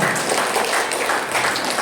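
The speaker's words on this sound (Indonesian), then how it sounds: "tepuk tangan untuk kita semuanya" Dense, steady applause from a crowd, continuous clapping filling the whole stretch at a fairly loud level.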